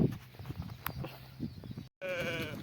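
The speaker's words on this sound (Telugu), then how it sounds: "గొర్రెలు" A sheep bleats once near the end, clear and nearby, following a stretch of rustling and handling noises.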